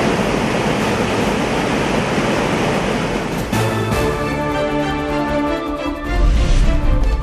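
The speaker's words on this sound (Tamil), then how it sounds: "தரைப்பாலத்துக்கு மேலே தண்ணி போயின்னு இருக்கு" Floodwater pours over a low causeway in a loud, continuous rush of broadband roaring water that holds steady from start to finish, with some tonal background sound joining partway through.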